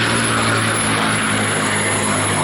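A P-51 Mustang fighter plane flies at the Wings over the Illawarra airshow, its propeller engine droning steadily and loudly with a constant low hum and no voices over it.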